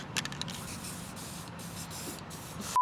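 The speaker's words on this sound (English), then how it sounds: "The issue is this spray paint can wants to be up, like spray painting upwards" Spray paint can spraying indoors at an indoor shooting match venue, a faint, steady airy hiss running throughout with a few short bursts near the start and a brief click at the end.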